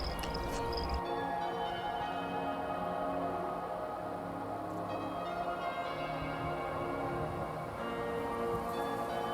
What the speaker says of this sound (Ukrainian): вечір пішов у нас дощ. Такий не сильно великий